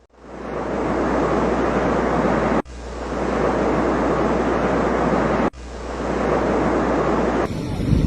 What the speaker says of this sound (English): shows wave up to 6 meters high violently hitting a dock in Piura